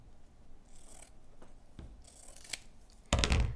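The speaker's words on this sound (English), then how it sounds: "So let me cut these in half." Scissors snip through ribbon while a Christmas ornament is made, a few soft scrapes and short cuts followed by a louder, crisp snip near the end, heard close up.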